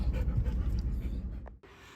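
Steady, fast breathy panting from a dog close by, continuous for most of the moment before cutting off abruptly, with a soft whine-like tone near the end.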